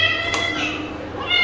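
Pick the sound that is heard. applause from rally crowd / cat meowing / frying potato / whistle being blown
cat meowing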